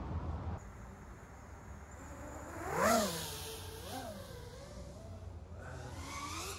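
An RC car motor at full throttle whines past, rising and falling in pitch as it nears and recedes, with a second fainter pass after; distant and fairly quiet outdoors.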